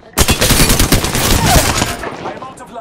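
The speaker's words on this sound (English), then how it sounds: "I shot at an enemy shield." Rapid automatic gunfire bursts out in Apex Legends, a loud, dense volley of close shots that runs for about two seconds before tailing off.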